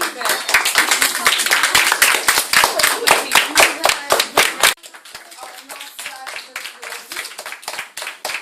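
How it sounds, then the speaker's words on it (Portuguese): Audience clapping at a school performance, a loud group of hands clapping in a quick steady rhythm, then dropping suddenly to softer, thinner claps that continue to the end. "Então as palmas."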